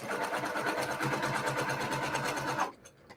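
A sewing machine stitching a quilt block, running in a rapid, steady mechanical whir for about two and a half seconds before stopping abruptly, close and clear with no talking.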